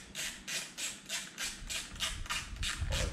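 A T10 Torx driver snugs up screws on a wind screen in a C5 Corvette convertible, producing a steady series of about ten short, crisp ratcheting clicks, close and fairly quiet, with no talk.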